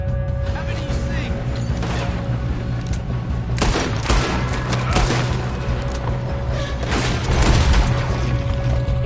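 Gunfire in a Red Dead Redemption 2 shootout pops in scattered volleys over a steady game background hum, with voices talking between shots.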